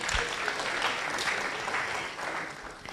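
Sustained audience applause fills a public lecture hall, dense and steady clapping from a large crowd, tapering slightly near the end before picking up again.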